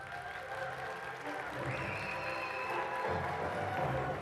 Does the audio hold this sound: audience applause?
yes